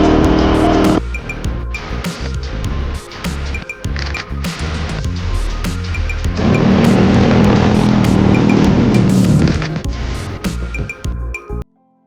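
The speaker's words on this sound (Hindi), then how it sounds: "तो अभी आइडल पे कुछ इस तरह की इसकी साउंड आ रही है।" A Royal Enfield GT 650 motorcycle fitted with an SSP aftermarket exhaust and BMC air filter runs loud and bassy up close: a rumbling idle broken by repeated throttle blips and a longer rev, then a sudden cut to silence.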